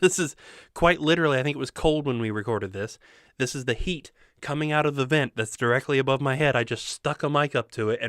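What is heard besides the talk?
No distinct noise like a dog, phone or traffic.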